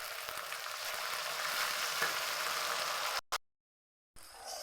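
Ground paste drops into a hot pan for a Tamil bitter gourd curry and sizzles loudly and steadily for about three seconds. The frying then cuts out abruptly, and a quieter hiss returns afterward.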